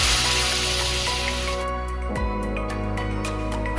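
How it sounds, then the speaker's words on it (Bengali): Water is poured into fish curry masala in a pan for a Bengali-style pomfret curry, starting as a loud rushing splash and giving way to sizzling bubbles and small clinks, no voices. "মশলাটি এমন হয়ে আসলে জল দিয়ে দেব।"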